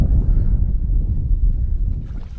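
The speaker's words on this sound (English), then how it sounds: "The wind's proper picked up on this bit." Strong wind roars steadily across the microphone during packrafting on a flooded river under trees, a constant low rumbling buffet that holds loud and unbroken throughout with no voices.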